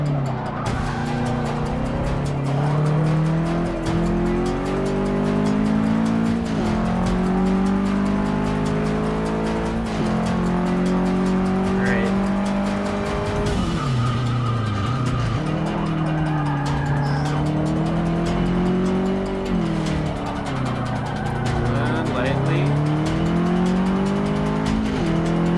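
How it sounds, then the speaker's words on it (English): A race car in Forza Motorsport 6 brakes hard into turns, its engine droning and dropping in pitch while tires squeal and skid continuously and loudly. "Alright, braking for these turns."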